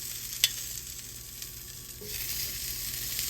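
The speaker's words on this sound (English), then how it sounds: "you gotta grill them off and get some char on them" Garnish sizzling on a hot grill pan, charred on the back side only, giving a soft, steady frying hiss with a few small pops and crackles, close and fairly quiet, with no talking.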